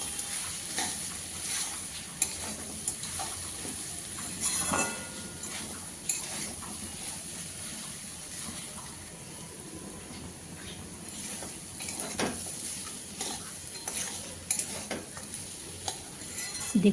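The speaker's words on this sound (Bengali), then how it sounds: "কপি প্রায় ভাজা হয়ে গেছে, মাছের মুড়োগুলো দিয়ে দিলাম।" Cabbage and catla fish heads fry in a pan while being stirred, giving a quiet, steady sizzle broken by scattered scraping and clinking stir strokes throughout, with no talking.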